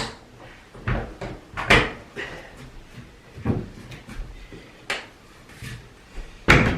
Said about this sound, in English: I'm going to stick the door back on the cupboard, close it up